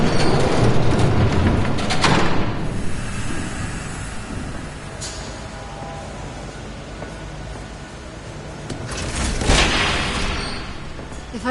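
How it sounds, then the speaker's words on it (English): A train rumbles past in the Batman Telltale video game, a loud broadband roar that swells near the start and again near the end over about eleven seconds, with brief clattering bursts and no clear talk. "There's a train coming."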